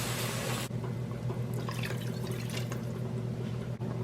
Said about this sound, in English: Now slowly I am going to add 2 cups of water.